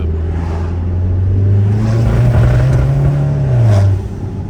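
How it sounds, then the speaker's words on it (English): Audi B7 A4 with a stage 2+ K04 tune and Unitronics software, its engine loud and close, idling roughly with an uneven, stumbling misfire and a low pitch that swells and dips. "See, it's like misfiring really bad."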